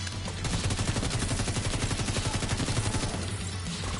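Sustained rapid gunfire hammers at a hive weak point during a Bank Headquarters boss mission in The Division 2, a loud, steady automatic stream lasting several seconds with no voices.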